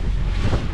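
Strong wind buffets the microphone on a boat running through choppy water, giving a loud, steady low roar with a wash of water noise and no talk during this brief moment.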